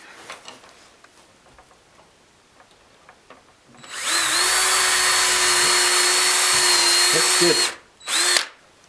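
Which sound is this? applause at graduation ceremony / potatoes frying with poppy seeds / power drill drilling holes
power drill drilling holes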